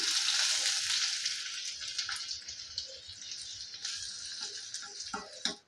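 Chopped onion hits hot oil already tempered with mustard seeds, urad dal and cumin, giving a bright, steady sizzle that slowly fades and crackles, close and alone.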